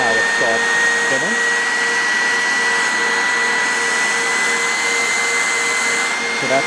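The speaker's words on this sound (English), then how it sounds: "I am going to turn on the vacuum by simply stepping on this power button, red button here" A Bissell PowerForce Compact Turbo upright vacuum with its turbo brush spinning runs loud and steady throughout, a constant close motor whine with a high tonal hum and faint rhythmic brush thumps.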